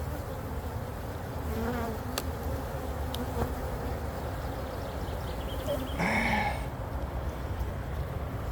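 Honey bees buzz in a steady, dense drone during a hive inspection, the swarm noise close and continuous with a few faint clicks and knocks over it.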